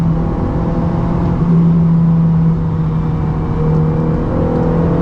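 A Ferrari F430 engine pulls under moderate throttle, a steady droning growl that rises slightly in pitch as the car accelerates, heard close from inside the cabin without talk.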